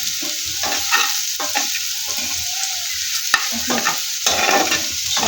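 Fish and egg frying in a pan, with a steady close sizzle and scattered clinks and scrapes of stirring throughout, no voices.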